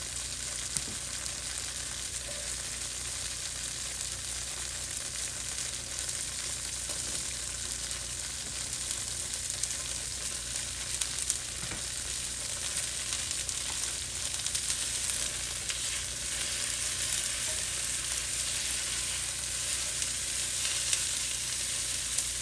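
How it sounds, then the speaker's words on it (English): Onions sizzle in a hot pan for a tofu stir fry, making a steady, dense crackling hiss that stays close and even throughout with no talking. "So I'll be tossing in our onions."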